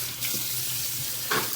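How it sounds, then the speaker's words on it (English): Running water rinses the screen of a Nostalgia 3-quart iced tea and coffee brewer, a steady close hiss of a tap spraying over the mesh, continuous and fairly loud with a brief splashy surge near the end. "Let's give the screen a rinse."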